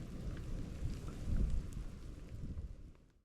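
Rain blows in through the New York woods as a thunderstorm approaches, a dense, steady patter with low rumbling wind and a swell of thunder-like roar, heard close with no talking.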